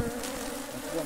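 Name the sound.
honey bees buzzing at a propolis hive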